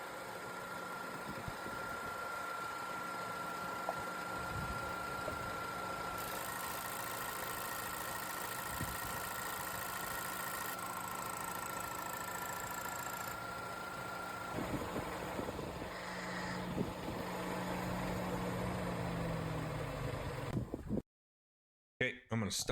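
A 2024 Toyota Tacoma idles with its engine cover off, a steady low hum and faint whine with scattered ticks and knocks running continuously before a brief cut near the end.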